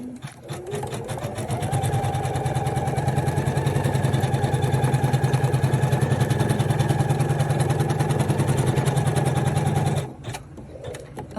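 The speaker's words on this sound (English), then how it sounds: "let's put a piece of this on the machine and stitch us up a pumpkin." An embroidery machine stitching Luxe Cuddle fabric into a small pumpkin keychain, a loud, fast mechanical rattle that runs steadily for about ten seconds before stopping, with no talk.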